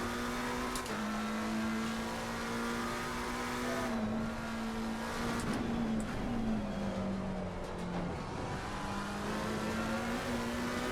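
Race car engines in Assetto Corsa Competizione at Imola, a loud continuous engine howl that climbs and dips with shifts and braking, other cars' engines layered in, no talk.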